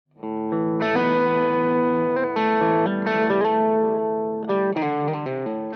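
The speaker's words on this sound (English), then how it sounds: "This is a dual channel distortion with 2 identical circuits in the one pedal." Electric guitar through a dual-channel, high-gain amp-in-a-box distortion pedal, sustained chords and notes ringing with a thick, saturated tone, played alone and fairly loud.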